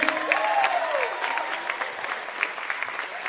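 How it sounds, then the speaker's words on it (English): Crowd cheering and clapping at a netball event, a sustained wash of applause with a few whoops rising through it, fairly loud and steady. "Give me a cheer!"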